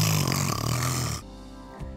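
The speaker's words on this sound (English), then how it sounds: "Do you know how loud I snore?" A loud, rasping snore rumbles close by for about a second, then cuts to a quieter, lower drone.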